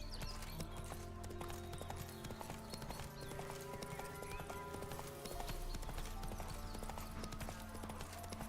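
Hooves pound in a quick, rhythmic clip-clop as a horse gallops across the ground in The Witcher 3, close and continuous over a bed of sustained game music tones, with a brief whinny near the start.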